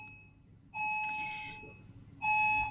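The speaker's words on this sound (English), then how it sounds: "Sorry for the bell." A school bell rings in two electronic tones. The first lasts about a second and a half, and a second starts near the end. Both are moderately loud over a quiet room hum, with no talk.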